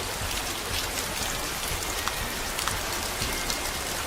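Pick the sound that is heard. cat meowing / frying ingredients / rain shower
rain shower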